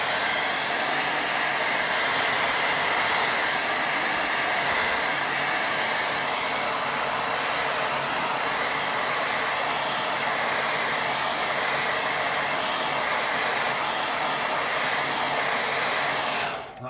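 A hair dryer blows on a wet watercolour painting, a loud, continuous whooshing roar held close for about seventeen seconds and dropping off right at the end.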